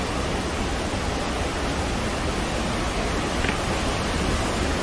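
A waterfall in a forested tribal area roars as a steady, dense broadband rush, continuous and close, filling the whole stretch with no voices.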